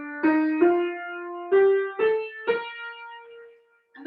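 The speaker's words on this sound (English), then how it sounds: "the major scale. And it sounds like this." Five plucked notes step upward one after another in a major scale, each ringing clearly and the last sustaining as it fades.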